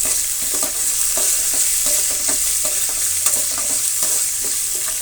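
Dried red chillies frying in oil for coconut rice, stirred in the pan: a steady bright sizzle broken by repeated small clicks and scrapes of the spoon, close and alone.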